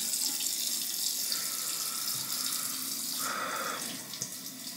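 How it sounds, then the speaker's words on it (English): Warm water running steadily from a tap into a sink before face lathering with soap, a continuous close splashing hiss with no talk. "Let's get some warm water on the face, and then we will start face lathering this Siliski soap."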